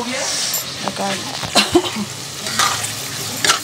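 Onion, garlic and mutton mince for keema khichuri are sautéed and stirred in a hot pan, giving a soft sizzle broken by several sharp scrapes and knocks of the spoon against the pan.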